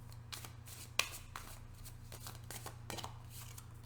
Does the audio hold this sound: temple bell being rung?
no